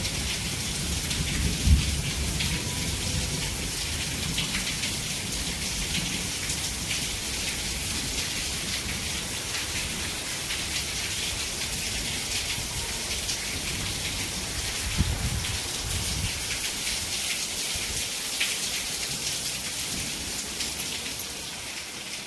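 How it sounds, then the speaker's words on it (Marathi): Heavy rain pours down in a steady, loud roar with low thunder rumbling beneath it throughout, and no voices. "कसा झाला पाऊस लय जोरात"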